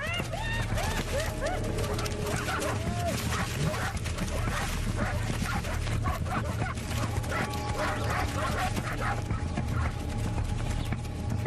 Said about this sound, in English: the dogs, about the size of a Doberman, take to the field in numbers and tag team the errant hyena